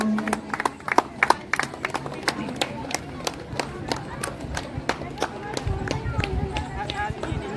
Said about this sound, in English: Please make a huge round of applause